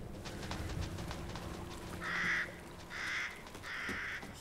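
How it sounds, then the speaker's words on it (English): Three harsh crow caws from the video game Resident Evil Village ring out in a slow, evenly spaced sequence over a quiet ambient background. "Look at them crows."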